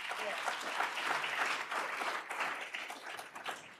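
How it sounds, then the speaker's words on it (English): Audience applause at the SCFB 2024 kickoff event, a steady wash of many hands clapping throughout at moderate level, with some voices mixed in beneath. "Let's give the younger generations a round of applause"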